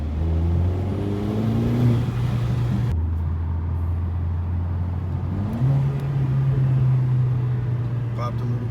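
A 2022 Mercedes-Benz CLA45 AMG in Sport Plus mode accelerates hard, its engine note climbing through gears with a brief drop at a shift, then rising again, loud and steady with wind noise.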